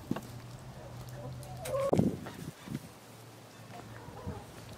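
A young rooster on a farm lets out a short, wavering first crow partway through, rising briefly above quiet outdoor background sound and a low hum.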